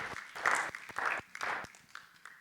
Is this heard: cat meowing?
no